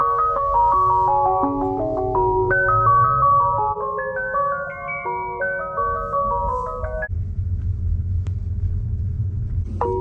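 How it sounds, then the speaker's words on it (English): A Tesla's external speaker blares an ice cream truck melody loudly, a bright chiming tune that plays for several seconds before cutting off, leaving a low engine-like rumble and a brief final note. "Teslas have a feature that lets you turn on an ice cream truck sound that plays very loudly on the outside."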